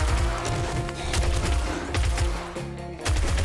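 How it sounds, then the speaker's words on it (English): Rapid submachine gun bursts in the 7 Days To Die zombie game, loud repeated automatic fire in several short strings with brief pauses between them. "here, another example why the SMG kicks the pistol's ass"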